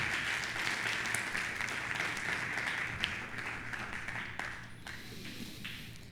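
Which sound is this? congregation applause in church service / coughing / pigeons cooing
congregation applause in church service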